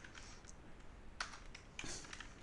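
Quiet typing on a computer keyboard during a programming exercise, with scattered soft key clicks and a couple of sharper taps over faint room hiss.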